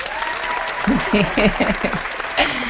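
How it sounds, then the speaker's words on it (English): One person claps their hands in a short burst of sharp slaps, close and fairly loud, mixed with talk and laughter from a few people. "So let me clap for you."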